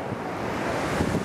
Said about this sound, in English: The ocean is huge.